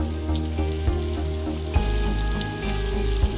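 Food fries in a pan, probably onions with lentils and rice, giving a loud, steady close sizzle with a few soft clicks and no talk.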